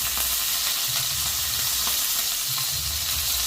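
Pieces of food rubbed with turmeric deep fry in hot oil, a dense, even, close sizzle and hiss throughout with low bubbling rumbles rising and falling.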